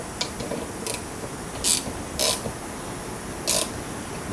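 A ratchet snugs a nut during a pinion bearing job, giving a few sharp, separate clicking bursts close by over a quiet shop background.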